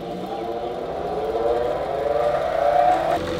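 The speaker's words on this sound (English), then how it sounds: "This bit is pretty dull, so we're gonna go over to the grinder and hand sharpen it." A bench grinder whirs steadily as a dull drill bit is hand sharpened against the wheel, with a rising, slightly wavering grinding tone over about three seconds, close and continuous.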